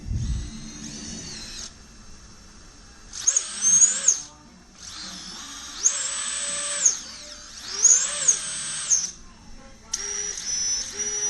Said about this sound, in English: It's armed, motor spinning, disarmed, armed,